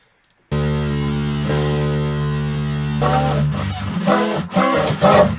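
A distorted electric guitar chord rings out and sustains, then a series of gritty, buzzing notes and chords are strummed, loud and up close.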